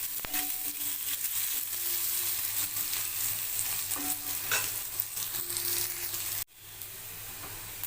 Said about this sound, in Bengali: কেটে রাখা আলুর টুকরো গুলো এটাকে একটু হালকা করে ভেজে নেব